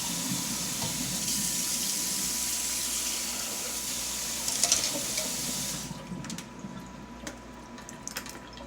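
Water from a sink tap gushes in a steady hiss while spaghetti is rinsed, then cuts off and leaves a few faint drips and clinks.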